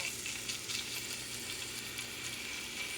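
Puerto Rican style sofrito sizzles in a pan for a rice and chorizo dish, giving a loud, dense, continuous frying hiss with small crackles, near and steady, with no talking.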